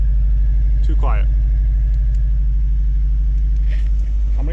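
A Subaru Forester with the stock turbo, a catless up pipe and a muffler delete, idling with a steady, loud, deep low rumble close by while a person talks over it.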